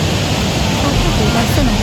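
Dunhinda waterfall in Badulla, Sri Lanka roars as a loud, dense, continuous rush of falling water close by, with a voice talking over it.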